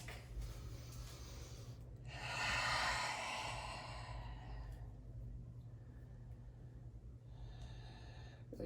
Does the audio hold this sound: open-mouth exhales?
yes